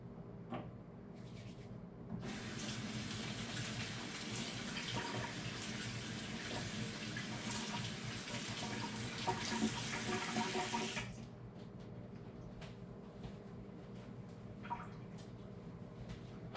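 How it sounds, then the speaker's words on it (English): Tap water runs steadily for about nine seconds as hands are washed at a kitchen sink during cake baking, a broad rushing hiss that starts and stops abruptly, with faint clatter before and after. "I have to go wash my hands"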